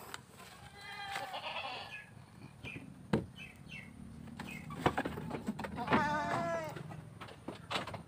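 A goat bleats during a skin injection, given for mange, with several wavering cries near and loud over background noise and some low voices.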